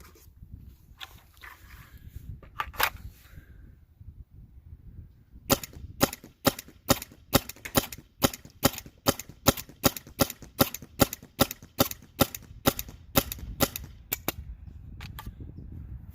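A First Strike paintball marker running off an EMF100 tank fires a rapid string of sharp, evenly spaced pops, preceded by a few scattered shots and handling clicks, loud and close.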